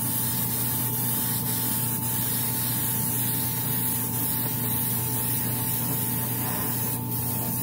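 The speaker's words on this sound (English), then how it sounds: "give this a real nice coat of primer" A spray gun set to 20 PSI sprays a coat of styrene resin primer onto a clamped Batman prototype build, a steady close hiss of air and atomized paint with a constant compressor drone, no talking.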